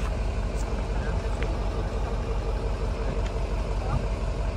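A bus driving along, its engine rumbling steadily and loud close by under continuous road noise, with a few faint clicks and rattles on top.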